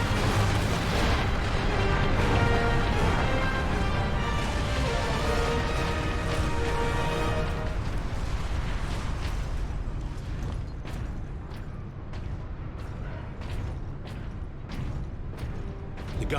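Heavy cannon artillery fire booms in the Warhammer 40K: Space Marine video game, a dense rumbling barrage that fades into a run of sharp repeated blasts near the end, with no talk.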